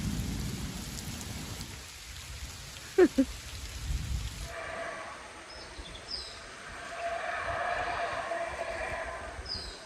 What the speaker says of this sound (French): C'est la deuxième fois qu'il pleut cette année,